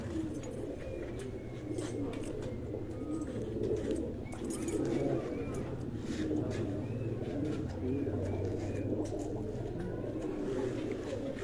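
A golden-coloured pigeon coos in soft, repeated rounded calls over a low background rumble, with faint chirps here and there and people talking nearby.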